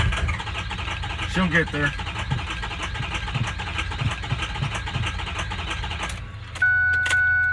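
A Ford 6.0L Power Stroke diesel truck engine with a couple of bad injectors idles roughly and steadily nearby, shifting toward the end, while people talk over it.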